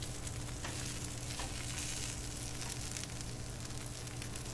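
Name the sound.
bacon and hash browns sizzling on a Blackstone griddle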